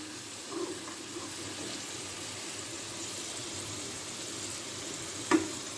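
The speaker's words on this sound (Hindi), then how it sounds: "मीडियम आंच पे आपने इसको फ्राई करना है।" Taro root (arvi) frying in oil over a medium flame, a soft continuous sizzle with a light clink near the end, quiet and close with no speech.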